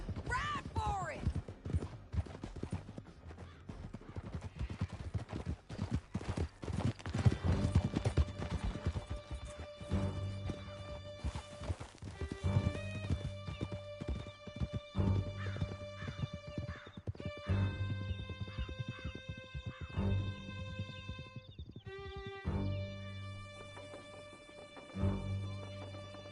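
Horses galloping hard through a canyon in a Wild West action video game, a dense, steady clatter of hooves under a musical score, with voices briefly heard.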